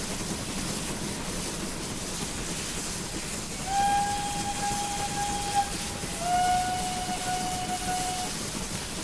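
A Collett Goods steam locomotive in a train simulator game gives two long steady whistle blasts over a constant rolling rumble of the moving train, the second blast following shortly after the first.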